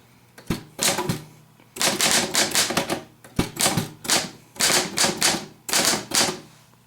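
A manual typewriter clatters in rapid bursts of keystrokes, with several sharp carriage-return or bell-like thumps between runs of typing, close and loud with no talk.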